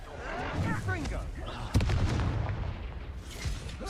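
A Confringo blasting spell fires in Hogwarts Legacy, landing as one sharp, booming burst partway through, set amid busy game effects and a voice.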